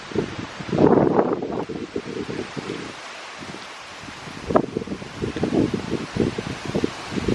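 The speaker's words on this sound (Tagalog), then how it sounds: "Sobrang mahangin, guys." Strong gusts of wind in Sweden buffet the microphone, roaring in bursts with rustling, easing briefly before picking up again.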